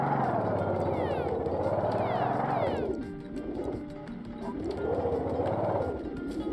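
Birds cooing in the Donut County video game, with soft rising and falling coos over a steady, busy layer of game music and effects.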